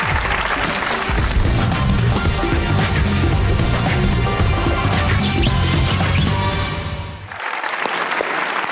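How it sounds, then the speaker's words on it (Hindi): A studio audience at a Pakistani comedy talk show claps in a dense, loud burst of applause that lasts about seven seconds before abruptly dying away. "तालियां!"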